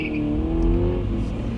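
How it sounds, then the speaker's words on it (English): A Ford Mustang convertible revs its engine close by, a loud steady throaty roar with a rising growl, heard alone without voices. "Convertible Mustang."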